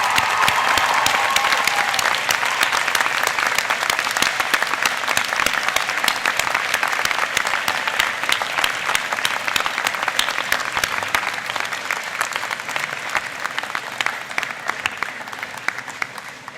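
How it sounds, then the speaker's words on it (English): At a 2013 UBC convocation ceremony, graduates give their parents, family and friends a big round of applause: a large crowd clapping loudly and continuously, the sound easing off slightly toward the end. "show your appreciation for the support of your parents, family, and friends by giving them a big round of applause"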